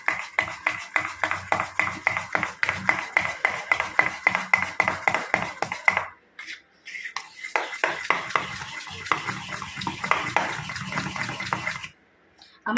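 A spoon stirs grated ginger, chopped chilli and salt into a thick lentil batter, giving rapid, steady scraping and sloshing strokes that pause briefly midway and then resume before stopping near the end.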